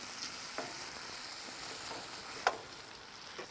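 Bacon fries in a pan with a steady soft sizzle while a utensil stirs it, leaving a few light scrapes and one sharper tap near the end, no talk.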